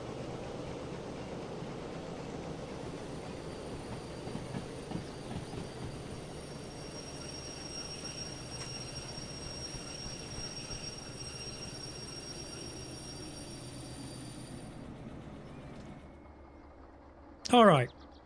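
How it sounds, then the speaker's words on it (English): A locomotive rumbles and hums steadily with brakes applied in the train simulator Derail Valley, a long continuous drone that fades near the end, followed by a brief loud burst. "Train brakes on."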